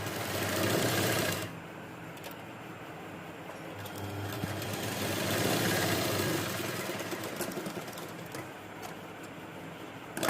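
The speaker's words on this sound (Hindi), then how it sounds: "तो देखिए इस तरह हम पट्टी की सिलाई कर लेंगे।" A sewing machine runs steadily, stitching a fabric strip for a kurti, its motor hum loud and close with a brief pause and change in pace partway through.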